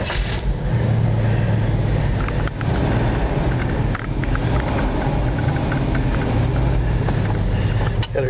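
A 1979 Chevy Blazer V8 idles with a low, rough rumble that stays fairly even, with a couple of brief clunks along the way. No one speaks.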